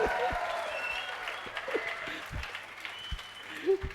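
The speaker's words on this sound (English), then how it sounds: "One clap to him." Students in a lecture hall give a short burst of clapping that is moderately quiet and thins out quickly, with a few scattered claps and a voice speaking over it.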